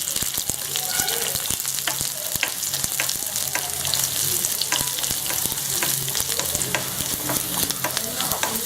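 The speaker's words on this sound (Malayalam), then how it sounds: "കടുക് പൊട്ടി വരുമ്പോൾ ഇതിലോട്ട് ചെറിയുള്ളിയും അതുപോലെ കറിവേപ്പിലയും ചേർത്ത് കൊടുക്കുകയാണ്." Shallots and curry leaves fry in oil with popped mustard seeds for a Malabar-style roasted-coconut prawn curry, giving loud crackling sizzle and repeated clattering stirs close up.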